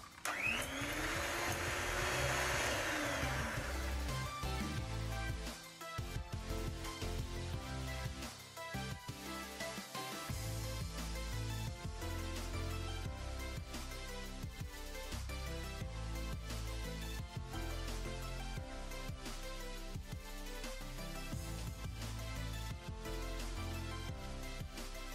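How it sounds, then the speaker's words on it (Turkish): An electric hand mixer whisks lemon zest with powdered sugar, a steady loud motor whir that runs for about twenty-five seconds with brief dips in pitch and load. "Mikserle çırpalım."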